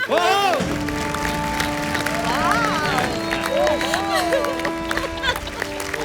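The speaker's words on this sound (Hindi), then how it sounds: "आप फिर से तालियां बजाइए" Studio audience applauding and cheering on The Kapil Sharma Show, a loud continuous wash of clapping and crowd noise with music tones running underneath throughout.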